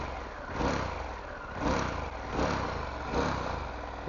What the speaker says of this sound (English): So I'll show you the exhaust note and the engine sound.